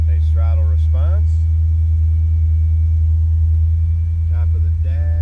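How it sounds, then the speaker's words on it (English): The engine of a 1984 Chevrolet Corvette Z51 coupe rumbles low and steady from close by, with a voice over it at the start and end. "Nice throttle response."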